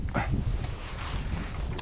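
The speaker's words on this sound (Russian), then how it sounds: "Сильный ветер и просто выдувает насквозь." A strong northwest wind sweeps across the frozen Pechora River, buffeting the microphone with a low, rough roar that holds steady through the brief moment.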